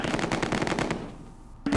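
Sniper gunfire in the World War II strategy game Close Combat 2: a rapid string of loud, close shots rattles in quick succession for about a second, fades briefly, then one more sharp report cuts in at the end.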